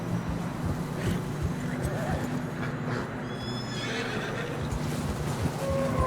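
Horses in fresh snow in the video game Red Dead Redemption 2, with a prominent whinny, steady hoof clip-clop and wind noise, plus a voice speaking.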